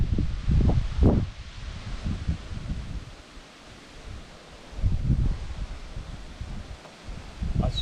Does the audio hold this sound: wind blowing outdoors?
yes